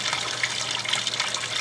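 Water gushes steadily into a washing machine drum as it fills, a continuous close rushing wash with no voices.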